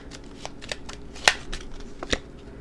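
Tarot cards being shuffled and drawn, a quick run of soft riffling flicks with one sharp snap, close and clear, no talking over it.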